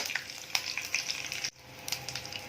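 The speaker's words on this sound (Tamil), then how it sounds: "இப்போ அதுலேயே எண்ணெய் ஊற்றிக்கலாம் கடுகு உளுந்தம்பருப்பு போட்டுக்கலாம்" Mustard seeds and urad dal frying in hot oil, a bright close crackle with small popping bursts that briefly drops off then resumes, no voices.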